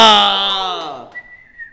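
A man whistles on stage, a loud, clear note sliding slowly downward for about a second before a thinner, higher whistled tone holds briefly amid faint background noise.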